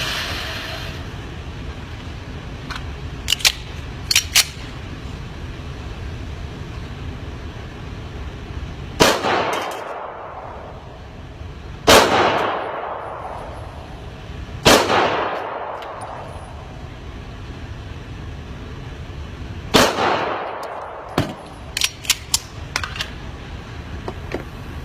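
Pistol shots ring out at a shooting range, four or five loud, close single cracks spaced a few seconds apart, each with a decaying echo, amid quiet clicks and handling noises.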